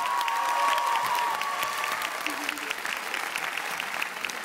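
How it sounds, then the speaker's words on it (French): A crowd at a film premiere in Aix-en-Provence applauds, a sustained wash of dense clapping throughout, with a faint whistle early on and a voice briefly audible beneath. "Applaudissements, elle est chez vous quand même!"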